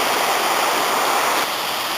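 Afon Ysgethin river running full with plenty of water, a loud, steady rushing roar heard up close, unbroken for the whole stretch with no voices.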